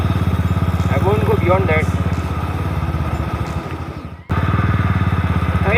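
A Royal Enfield Bullet motorcycle cruises on the road from Mumbai to Lonavala. Its close, loud engine thumps in a steady rhythm while someone talks over it.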